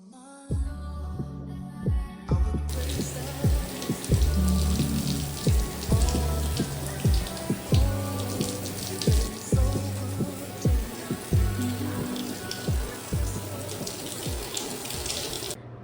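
Tap water runs steadily into a sink while hair is rinsed during a wash day, with repeated soft splashes and sloshes over a continuous, fairly close stream, and no talking.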